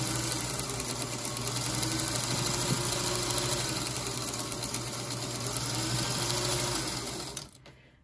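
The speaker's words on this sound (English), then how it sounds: "I can just go ahead with my fabric under there and start sewing." A sewing machine runs steadily while stitching fabric for foundation paper piecing quilt blocks, a close continuous whirring hum that holds for several seconds before stopping abruptly near the end.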